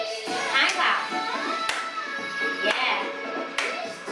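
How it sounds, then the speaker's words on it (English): Hands clap in sharp, evenly spaced strikes, about four across a few seconds, during a hula hoop dance workout class with music playing. A voice briefly speaks over them. "let's clap our hands."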